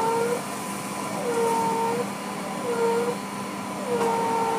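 Hoover Compact Electronic S3462 vacuum cleaner running on a low setting, a steady close whirring drone with a faint whistle from an air leak that rises and falls repeatedly, and no talking.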